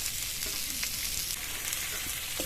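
Shrimp stir-fry in a pan over medium-low heat, giving a continuous soft sizzle with faint stirring taps, fairly quiet and with no talk.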